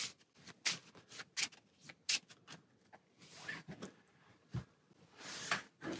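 Character cards from the DC Deck Building Game in slick new sleeves are shuffled up close in repeated brisk riffles and flicks, followed by a few softer handling and sliding sounds, with no voices.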